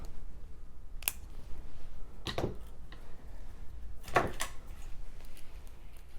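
Scissors snip through a bead strand at a jewelry-making table, giving a few sharp, brief cuts spaced apart against quiet room noise, with no talking.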